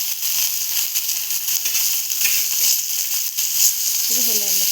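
Baga fish fries in a pan and gets flipped: a constant bright sizzle and hiss with scattered scraping and clattering from the turning. A voice briefly comes in near the end.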